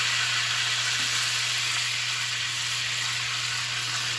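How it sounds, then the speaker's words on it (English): Salmon frying in a pan with butter and a squeeze of lime gives a steady, close, loud sizzle that holds unbroken throughout, with no talking. "let that sizzle"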